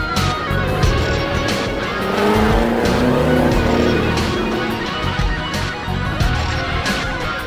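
A car balanced on two wheels in a stunt drive gives a loud, continuous engine roar with tire squeal and skidding, steady and close throughout.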